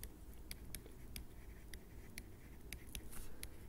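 Writing by hand while working through a maths equation, a pen scratching out short strokes in an irregular rhythm, close and quiet with no voice over it.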